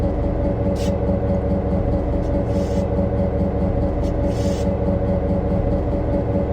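Train driving in the Trainz railroad simulator game, a steady loud rumble of locomotive engine and rolling wheels with brief hissing bursts, continuous and with no talk.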